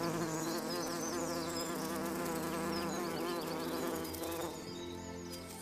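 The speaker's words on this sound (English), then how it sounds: "Bees need our help, and without them and the sound of their buzz" Bumblebees buzzing, a loud, sustained droning hum with wavering pitch as several insects fly close by, alone without voices.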